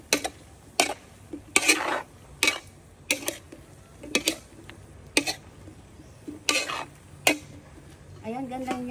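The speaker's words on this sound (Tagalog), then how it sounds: "Haluin po natin siya para mag-mix po yung nilagay po natin ang sahog tapos yung kangkong guys." A utensil stirs zucchini and kangkong in a cooking pan at home, scraping and clinking in a run of sharp, evenly spaced strokes about once a second over a faint sizzle. There is no talk.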